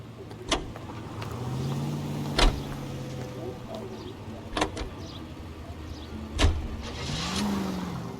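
Car driving in L.A. Noire, with engine hum and road noise running steadily throughout, broken by several sharp clicks or thumps, while a voice speaks faintly over it.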